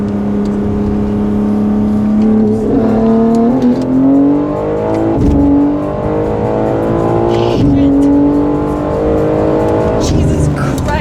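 A BMW M3 with a cracked manifold accelerates hard in third gear, its loud engine note climbing in pitch through repeated pulls, with people talking over it.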